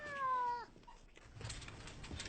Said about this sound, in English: Coulter, Sarai, get the cats off the table